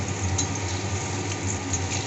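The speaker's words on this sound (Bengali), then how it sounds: "আর এখানে আলু ভাজছি।" Potatoes frying in mustard oil in a home kitchen, a steady close sizzle and bubbling hiss with a few faint clinks of a utensil, no talking.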